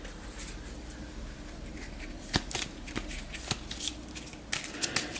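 Playing cards riffled and bridged by hand during a Star Wars Outer Rim tabletop game, a near, steady papery rustle with a few sharp snaps and flutters, no voices.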